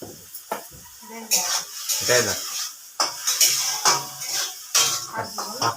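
Greens being fried in a pan at home, with repeated metallic scraping and clinking of a spatula as they are stirred, while people talk close by.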